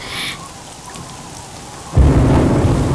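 Rain with thunder in a Tamil-dubbed horror film: a brief high hiss at first, then a steady low wash of rain that swells abruptly into a loud, dense downpour with rumbling thunder, no voices.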